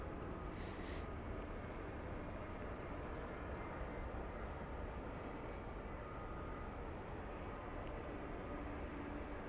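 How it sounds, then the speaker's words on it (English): An airliner bound for Brussels taxis across runway 18 right at a busy airport, its engines a steady, broad distant roar that holds level throughout with no voices. "It's scooting across runway 18 right, going to Brussels"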